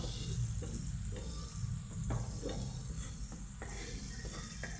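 Chutney stirred in a pan with a spoon, soft repeated scraping strokes in an even rhythm over a faint steady sizzle, close and quiet, with no talking.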